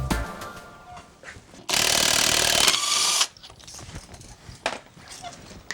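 An impact wrench tightens wheel lug nuts, a loud, dense rattling burst of about a second and a half standing out above quieter shop sounds and clanks.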